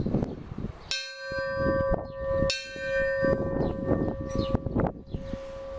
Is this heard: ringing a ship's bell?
yes